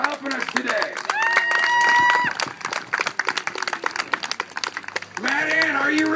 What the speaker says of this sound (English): let's give these guys a big Scout round of applause for helping us today